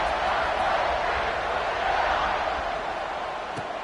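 Stadium crowd at a college football game, Ohio State against Texas A&M, a broad steady roar of cheering that swells and then eases slightly, with no voice standing out.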